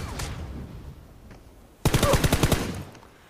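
A rapid burst of Vector submachine gun fire in the mobile shooter Game for Peace, about a dozen loud, tightly spaced shots that start abruptly after a quieter stretch of game ambience.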